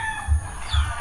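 A chicken gives two short, close clucks in quick succession, with a faint high background hiss.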